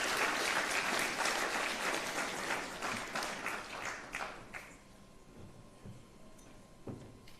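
Audience at Chief Justice Raymond Zondo's farewell dinner breaks into a warm round of applause, loud and full at first, then thinning into scattered claps before fading out.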